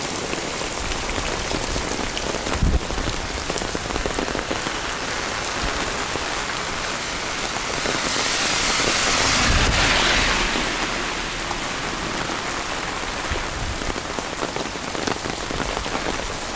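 Rain pouring onto a garden in Danang, Vietnam, a dense, loud, continuous hiss of drops striking leaves and ground, swelling slightly heavier midway and carrying on with no voices.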